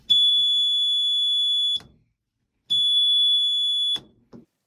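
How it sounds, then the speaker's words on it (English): A loud electronic buzzer from a Morris Minor sidelights reminder sounds twice, each tone steady and high-pitched for nearly two seconds, separated by a short silence. "if we turn on the interior light while the side lights are on, the buzzer will sound"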